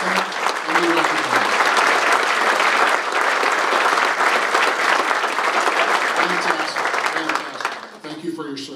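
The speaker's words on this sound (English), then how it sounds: "If you don't stand, a little applause." Audience applause for veterans standing at a State of the City presentation: dense, loud, sustained clapping from a large crowd that holds steady for several seconds, then tapers and thins out at the end.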